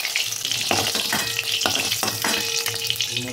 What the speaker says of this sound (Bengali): আমি জাস্ট এরকমভাবে আমি ভেজে নিলাম ডিমটা